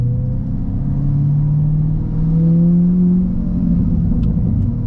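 Chevrolet C8 Corvette Z51 with its engine droning low and steady while driving, a deep rumbling exhaust burble that swells slightly mid-way and carries on throughout, heard from inside the car with no talking.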